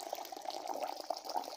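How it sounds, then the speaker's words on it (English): Water poured from a flask into a slow cooker pot holding rice for green rice with chicken, a steady liquid pour with a continuous splashing, bubbling texture, fairly close and moderately quiet. "And now we're going for water. Here from my flask"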